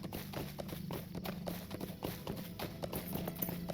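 Hoofbeats from a boar mount being ridden in the game Lord of the Rings Online, a fast, steady clip-clop of running hooves kept up throughout under faint background sound.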